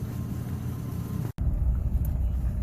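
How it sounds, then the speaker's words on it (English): A 2007 Chevy Trailblazer heard from inside while driving around the block, a steady low engine and road rumble with a brief cut partway through. "There, so I drove it around the block"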